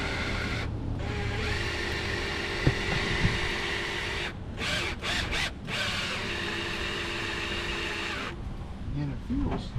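A 1964 Chrysler 300K engine, long abandoned, is turned over by hand, giving a continuous mechanical grinding and whirring with a few sharp clicks. People talk over it.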